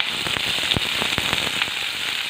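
Onions and whole biryani spices fry in three teaspoons of hot oil for chicken fried rice, giving a loud, dense, continuous sizzle with sharp popping crackles throughout.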